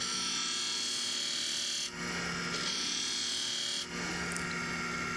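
A knife edge being refined on a sharpening setup, the blade stroked to push the burr, giving a steady close abrasive rasping that runs continuously with two brief dips in intensity.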